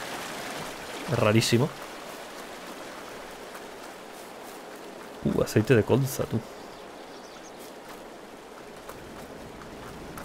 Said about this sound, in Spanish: se escucha una cascada cuando no hay cascada